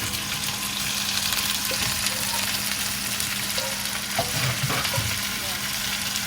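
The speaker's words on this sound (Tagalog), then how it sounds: "Ginisa muna namin." Chicken feet sautéing in a pan with garlic and bay leaves for adobo, a steady, loud, close sizzle and crackle that holds throughout, with a few stirring knocks near the end.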